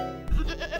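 A sheep gives a single short, nearby bleat that wavers for under a second, heard alone without speech.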